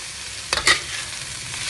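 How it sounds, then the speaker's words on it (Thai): Spring onions are stir-fried in a pan for chicken crispy noodles, a soft steady sizzle broken by a couple of quick scraping strokes of the spatula near the middle, with no voices. "พอหอมนะครับผมก็จะใส่ต้นหอมลงไปเลยครับ"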